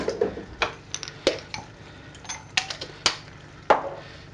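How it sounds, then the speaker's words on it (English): Lasagna sauce being stirred in a pan, heard as scattered light clinks and taps of a utensil against the metal, close and irregular, with no voice. "Into the sauce, give it a stir"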